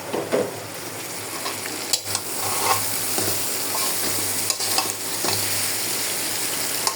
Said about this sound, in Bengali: ভাজা মুরগিগুলারে এভাবে রান্না করে নিব